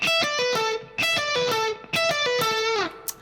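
Distorted electric guitar plays an economy-picked repeating rock lick, a quick descending run of notes played in three bursts with short gaps between them, loud and close.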